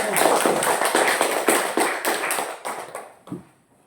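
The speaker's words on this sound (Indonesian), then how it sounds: "kasih tepuk tangan untuk kelompok" Classroom applause for a student group, a burst of claps from a small class that fades out toward the end.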